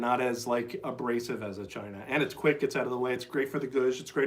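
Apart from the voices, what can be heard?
None of the usual background noises is heard.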